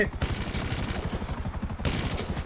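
Rapid bursts of gunfire in GTA V rattle over a low engine rumble, with a brief pause in the middle before the shooting resumes; no talking.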